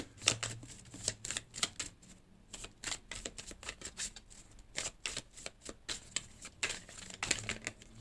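Tarot cards shuffled and drawn by hand, a busy run of crisp riffling flicks and papery slaps, close and fairly loud, repeating in quick bursts throughout with no talking.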